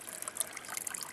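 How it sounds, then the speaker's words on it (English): Clear water trickles from a small natural spring, a soft, steady bubbling dribble heard up close and alone for about a second. "this little spring is going to supply all the water I need"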